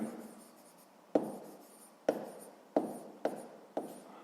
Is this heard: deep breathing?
no